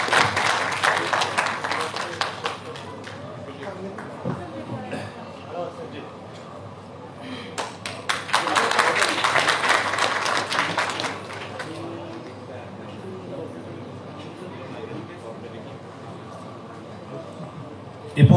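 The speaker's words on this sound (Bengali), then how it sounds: "চমৎকার, ছাড়ের জন্য একটা জোরে করতালি" An auditorium audience at the Kabi Sufia Kamal Auditorium, National Museum, breaks into loud applause in swells of dense clapping that fade and return, with a voice speaking over it.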